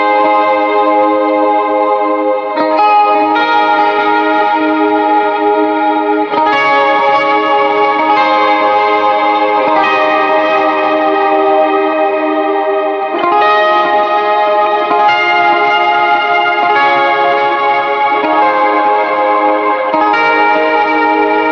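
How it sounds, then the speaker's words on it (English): Sustained electric guitar chords shimmering with chorus and long reverb trails, changing every few seconds, loud and alone. "If I want to use this as a chorus pedal"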